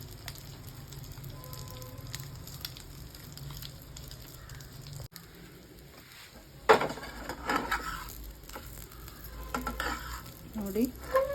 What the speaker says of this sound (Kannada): ಈಗ ತವ ಮೇಲೆ ಒಂದು 2 ಸ್ಪೂನ್ ಎಣ್ಣೆ ಹಾಕ್ಕೊಂಡು ಇದನ್ನು ಶಾಲೋ ಫ್ರೈ ಮಾಡ್ಕೊಳ್ಳೋಣ